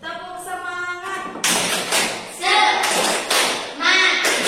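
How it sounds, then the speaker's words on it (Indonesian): A class claps together in the rhythmic spirit clap (tepuk semangat), producing several sharp bursts of hands in a patterned beat, loud and close. Voices chant along with the claps. "Yuk, tepuk semangat."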